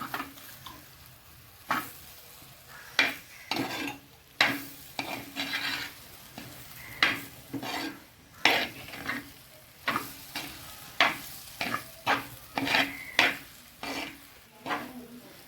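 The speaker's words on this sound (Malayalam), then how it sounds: "സോയാബീൻ വേവിച്ച് വെച്ചതിനകത്ത് നമ്മൾ മസാല ഇതിലേക്ക് നമുക്ക് ഇട്ട് കൊടുക്കാം ഇട്ട് കൊടുത്ത് നമുക്ക് നല്ല ഭംഗിയായിട്ട് ഇളക്കിയെടുക്കാം" Cooked soybeans being stirred with masala in a pan, giving a steady run of scraping, rubbing strokes over a light sizzle, close and fairly loud, with no talking.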